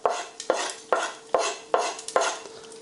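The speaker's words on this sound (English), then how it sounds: "Our mustard seeds are popping away now" Mustard seeds popping and sizzling in hot ghee for a spicy potato dry curry, with a steady frying hiss broken by about seven sharp pops and clinks of a stirring spoon against the pan, close and clear, no talking.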